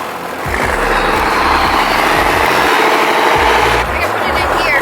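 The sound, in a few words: Cummins diesel swapped C10 truck power braking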